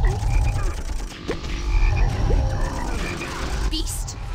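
Frogs croaking in the video game Sacrifice, a dense, loud chorus of rasping croaks over rumbling background noise, with brief electronic chirps near the end.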